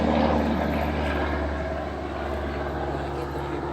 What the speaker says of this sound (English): So one more time while the plane goes by.